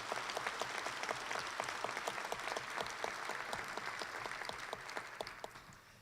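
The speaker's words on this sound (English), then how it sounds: "let's give a big round of applause here" Audience applauding at a Rotary luncheon, a steady patter of clapping hands from a seated crowd that carries on for several seconds before tapering off at the end.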